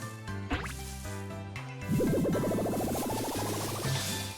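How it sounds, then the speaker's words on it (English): Water Gun attack in the Pokémon Pokopia video game: a sustained gushing spray sound with a warbling, pulsing tone, loud and close, running about two seconds over game music, after brief plopping effects. "We're gonna use Water Gun and see if we put him out."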